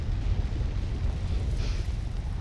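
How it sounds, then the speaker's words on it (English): Missiles launching and exploding in Mega Man X8, a loud, dense rumbling roar of blasts that stays heavy and continuous, with no talk over it. "Oh no, we could be launching a bunch of missiles."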